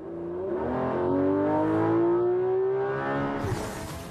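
Porsche 911 GT3 RS with PDK gearbox accelerating hard on a track, the engine note climbing steadily in pitch as revs rise, then a sharp shift near the end, loud and close with no talk.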